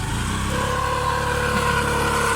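A motorcycle engine runs steadily at close range with a loud, even buzzing drone throughout, and no voices over it.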